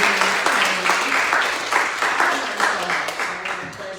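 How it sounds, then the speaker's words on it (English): Audience applause for panelists at a public safety discussion, a loud, dense burst of many clapping hands that starts strong and gradually tapers off over a few seconds, with no talk over it. "Can we give another round of applause?"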